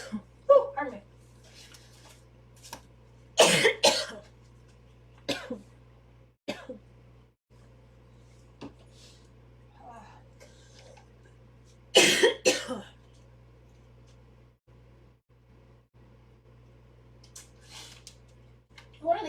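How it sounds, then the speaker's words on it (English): Coughing from a man at a microphone, several harsh loud bursts and throat clearing scattered between stretches of speech. "One of these days I'll learn not to try to talk through a cough."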